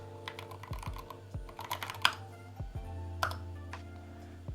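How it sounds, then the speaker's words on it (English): Rapid typing on a Novelkeys NK65 mechanical keyboard during a typing test, a dense run of close, crisp keystrokes with a few louder clacks over a steady low hum. "Let's do a typing test."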